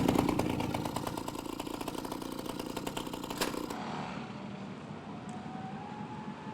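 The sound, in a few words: motorcycle engine running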